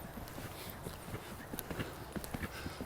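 A horse breaks into a gallop, its hooves thudding in a quick irregular rhythm over steady background noise, fairly close but not loud.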